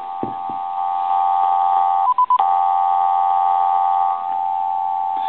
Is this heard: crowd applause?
no